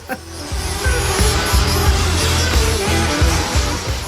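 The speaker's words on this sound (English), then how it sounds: "Who says you can't race RC cars in the wet?" RC cars racing through wet flood water, with a steady whirring motor drone and repeated rhythmic splashing and ticking, loud and close, with no talk.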